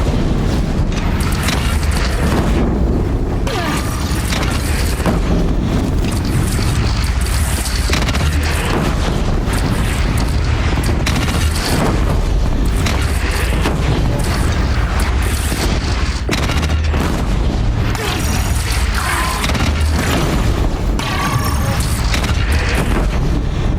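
Cannon fire in Horizon Forbidden West, repeated deep booms within a loud, dense battle din that never lets up, with faint voices buried underneath.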